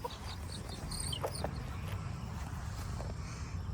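Chickens cluck and chirp faintly at close range in a backyard flock with a broody hen, giving a few high, quick calls over a steady background rustle, with no talk.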